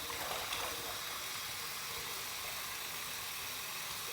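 Hot water runs steadily from a sink tap to heat a razor for shaving, a soft continuous hiss and splash with no talk.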